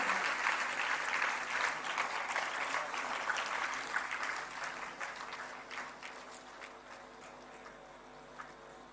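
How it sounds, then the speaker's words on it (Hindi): Loud, dense applause from a large audience fills an indoor hall at a student awards ceremony, gradually thinning and softening over several seconds. "जोरदार तालियां पूरे हॉल से गूंजनी चाहिए"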